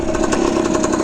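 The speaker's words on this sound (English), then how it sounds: "got the idle adjusted nicely" A 1970 Yamaha RT1 360 two-stroke motorcycle engine idling close by, a steady buzzy rapid putter with even pulses.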